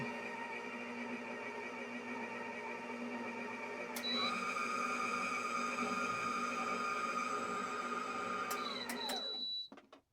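An electric mixer whirs steadily while making no-fry donuts, with a droning mechanical whine that climbs in pitch partway through, then winds down and stops near the end, close and moderately loud.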